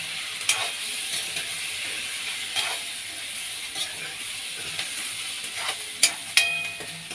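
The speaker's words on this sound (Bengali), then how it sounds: "ভালোভাবে নেড়ে চেড়ে ঢেকে দেবো।" Local mushrooms being stirred and fried in a pan, a steady bright sizzle with repeated scraping and clicking strokes of the spatula, close and alone without talk.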